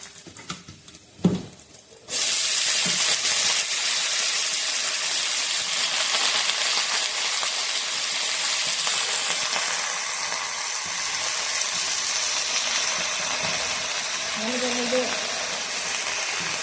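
Taro frying in hot oil makes a loud, continuous sizzle that starts abruptly after a few light knocks and holds steady to the end.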